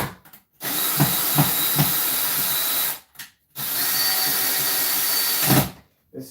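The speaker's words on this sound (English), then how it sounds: "so I'm using a hammer drill." Hammer drill boring through brick, two long loud bursts of grinding, rattling drilling close up, separated by short pauses.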